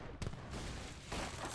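Cannon fire in Age of Empires III: a sharp volley burst followed by a second rumbling salvo amid a noisy battle wash, loud and close.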